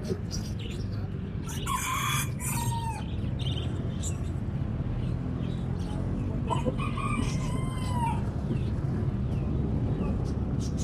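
Small chickens and a rooster on a farm, with two loud nearby crows a few seconds apart over steady background noise, and people talking faintly.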